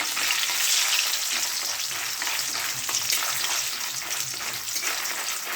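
Bori, small sun-dried lentil dumplings, frying in hot oil in a pan for Bengali shukto, giving a dense, continuous sizzle with faint bubbling and occasional stirring, close and steady throughout with no talk.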